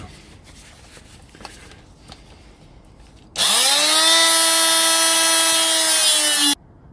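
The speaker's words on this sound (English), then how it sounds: "I'm going to be using this tool, this serrated edge, just try and cut off the end of this bush" Faint scraping and handling noises give way to a loud, high-pitched whine of a serrated tool cutting through a rubber lower control arm bush on a VW T3 Vanagon, holding steady for about three seconds before stopping abruptly.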